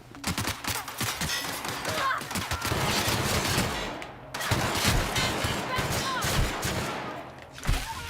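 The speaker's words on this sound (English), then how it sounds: "I like machine guns." Sustained rapid machine gun fire in the video game The Outer Worlds, loud and close, hammering in long continuous bursts with one short pause, while voices talk over the shooting.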